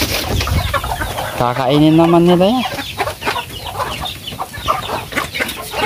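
Chickens cluck and squawk at feeding time on a rainy afternoon, with one drawn-out, rooster-like call standing out near the start and busy fowl chatter continuing close by as a person speaks.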